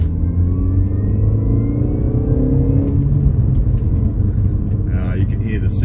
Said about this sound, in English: You can hear the supercharger in this thing.